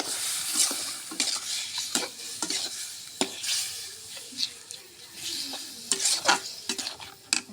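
Onion and garlic frying in oil while being stirred for a mutton curry, with a steady hiss and sizzle broken by frequent sharp scraping strokes of a spoon against the pan, close and lively throughout.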